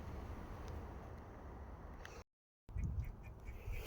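A chipmunk chatters outdoors in Illinois on a warm day of melting snow, faint repeated quacking calls, broken by a brief silent gap before resuming.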